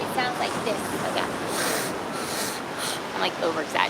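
Exaggerated ocean breath during a yoga exercise, a long breathy constricted-throat exhale with a steady rushing hiss like surf, heard close and alone.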